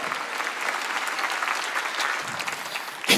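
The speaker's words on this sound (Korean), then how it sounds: "박수치라 얘기야." A congregation claps together during a Korean church Sunday worship service, a dense, steady wash of applause filling the room that ends with a sharper final burst.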